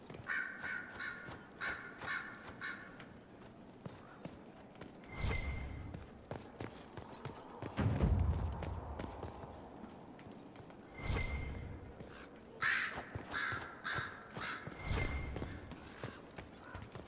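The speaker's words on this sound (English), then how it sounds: "Who is controlling those fucking birds?" Crows in Dragon Age: Inquisition caw in repeated harsh bursts, some near and loud, others fainter, set against soft ambient game noise and occasional heavier thuds like hooves or footsteps.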